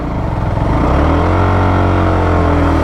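A Hero Xtreme 125R motorcycle engine, in gear with the clutch held half-engaged, revs loud and close, its droning note climbing and then holding steady without a break.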